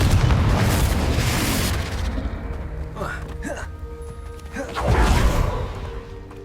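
A Confringo fire spell bursts in the Hogwarts Legacy video game, a loud booming explosion rolling out over about two seconds, followed by quieter rumbles and a second swelling blast near the end.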